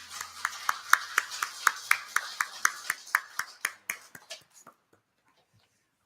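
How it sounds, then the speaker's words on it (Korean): A church congregation clapping in unison, a steady rhythmic beat of about a dozen sharp claps that speeds up and fades out, followed by near silence. "하나님께 영광의 박수 올려드립니다."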